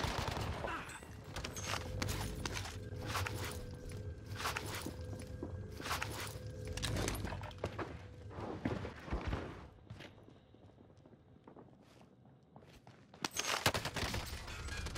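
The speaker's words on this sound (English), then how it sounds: "I don't even know where I'm getting shot from, bro." Rapid gunfire from a Call of Duty Warzone match on Rebirth Island, with bursts and scattered shots spread through the clip under steady game ambience and footsteps, plus a louder flurry near the end.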